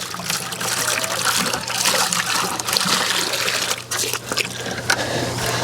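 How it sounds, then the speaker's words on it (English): Water runs steadily from a tap or hose to rinse out a bucket on a pastured pig farm, a continuous close trickle and splash with no one speaking. "We'll rinse this bucket out."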